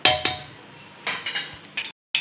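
Metal pressure cooker lid being fitted and closed while cooking dal at home: a few sharp clinks and knocks of metal on metal, spaced irregularly, close and fairly loud, with short silences between them.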